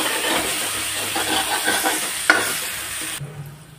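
Ginger garlic paste sizzles and fries in hot oil in a pan for chole, a steady close frying hiss with stirring scrapes and one sharp clink, then the sizzle drops low near the end.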